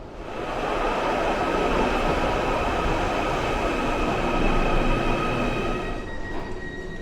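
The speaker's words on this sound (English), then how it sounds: "my train is just departing behind me" At Liverpool Lime Street station, a departing train rumbles steadily nearby with broadband roaring and faint wheel squeal, the noise holding loud before easing slightly as it moves off.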